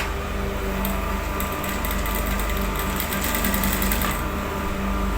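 A sewing machine stitches a shirt cuff, its motor whirring steadily with a fast rhythmic needle chatter that swells in bursts, close and loud with no talking.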